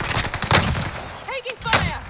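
Gunfire in the Warzone battle royale shooter: a few quick bursts of shots, sharp and fairly close, mixed with game effects and brief voice chatter.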